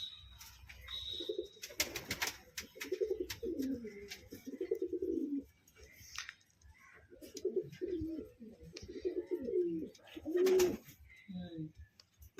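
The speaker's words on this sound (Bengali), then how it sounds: "শর্ট সাইজের পায়রা।" Short-sized fancy pigeons, a pair alongside purple-feathered-foot birds, coo in repeated rolling phrases close by, with a few brief pauses between bouts and light background sounds.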